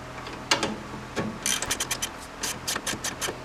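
A bolt is snugged up on a Super ATV lift kit fitted to a Polaris RZR 800, giving a quiet run of irregular ratcheting clicks and metallic scrapes.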